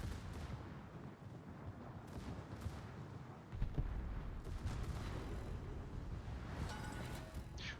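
Naval gun salvos firing SAP shells in the World of Warships game boom and rumble in dense, overlapping bursts over continuous battle noise, heavy and low throughout.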